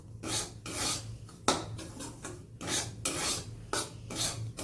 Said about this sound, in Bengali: তো এই যে সুজিটা দিয়ে দিয়েছি, এবার ভালো করে ফ্রাই করব।